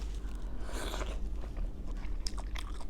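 Close, crunchy bites and chewing of a Thai fish ball glistening with sesame oil, several crisp crunches in quick succession with no talking.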